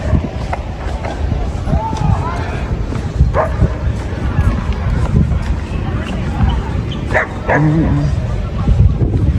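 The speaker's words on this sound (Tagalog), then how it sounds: "Mga aso park kasi daming aso oh." Several dogs bark, yip and whimper at a dog park near Viladecans, Barcelona, with loud, scattered barks over voices and crowd babble.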